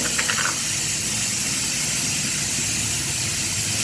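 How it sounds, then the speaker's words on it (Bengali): Pressure cooker whistle releasing steam in a home kitchen, a loud continuous hissing rush that fills the whole stretch, with a brief tonal whistle near the start. "কুকারে আর একটা সিটি পড়ছে তিন নম্বর হয়ে গেছে"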